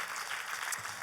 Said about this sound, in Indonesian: Boleh tepuk tangan yang paling meriah buat Yesus Tuhan kita.